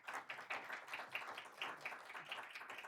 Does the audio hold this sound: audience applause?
yes